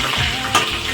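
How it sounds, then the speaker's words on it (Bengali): Nigella seeds and two slit green chillies hit hot oil with a close, bright crackling sizzle and a quick stirring scrape, brief and without talk. "হালকা ভেজে নেব।"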